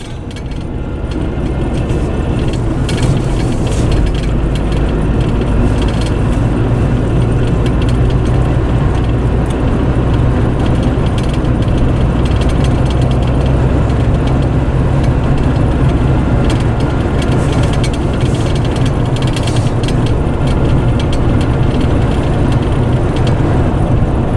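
A car engine hums steadily from inside the cabin while driving in traffic, a continuous low drone with road rumble and no voices.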